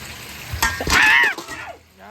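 Chicken fries in a pan, with a loud sizzling hiss that swells through the middle and then fades. Sharp clinks of utensils punctuate it and a brief whistling tone rides on top.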